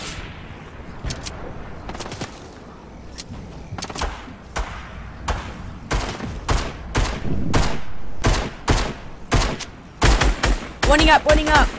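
Gunfire in Fortnite: a steady series of sharp single shots at irregular intervals, growing louder and quicker, then a dense burst of rapid fire near the end.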